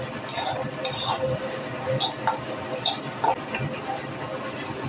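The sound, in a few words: stirring nuts in a pan while making chop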